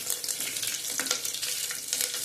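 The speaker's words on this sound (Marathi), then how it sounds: "10-12 कडीलिंबाची पानं, 4-5 लवंगा आणि 4-5 मिरी। हे सगळं छान परतून घ्यायचंय" Curry leaves, cloves and black peppercorns fry in oil for tomato pulao, a continuous airy sizzle with light crackles and a few stirring scrapes, quiet but close.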